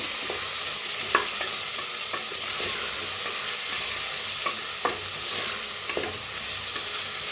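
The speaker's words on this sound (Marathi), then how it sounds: "आता ह्याच्यात टाकूया आपण टमाटो कापून घेतलेला त्याला बी मिक्स करूया" Chopped tomato stirred into fried potato and onion in a pan, a continuous soft sizzle with a few light spoon scrapes and taps spaced through it.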